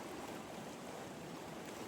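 Ocean waves wash in a soft, steady, distant rush with a faint airy hiss and no distinct breaks, with no voices.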